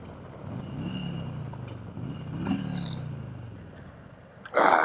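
A Harley-Davidson Street Glide motorcycle cruising on a city road, a steady engine drone with rising and falling revs heard from the rider's position, ending in a burst of wind noise.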